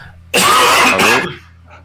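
One loud, harsh cough, very close to the microphone and lasting about a second, with quiet before and after it.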